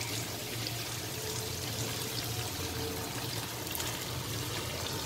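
Cooked urad (mash) dal poured into a pan of prepared masala for a dhaba-style dish, giving a steady, close wet pouring and trickling sound throughout with no talk.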